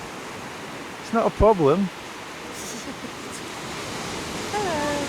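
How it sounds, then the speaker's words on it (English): Ocean waves at Kennack Sands beach in Cornwall make a steady, broad wash of surf heard throughout, with people speaking briefly over it. "What about the waves?"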